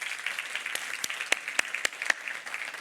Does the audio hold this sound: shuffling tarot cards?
no